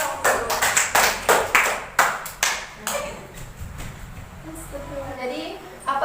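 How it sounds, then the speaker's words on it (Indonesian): Classroom applause for the first student group rings out in sharp bursts of clapping, then thins into scattered claps and fades under a teacher's voice. "Tepuk tangan untuk kelompok 1"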